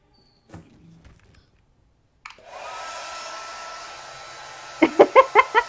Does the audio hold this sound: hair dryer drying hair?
yes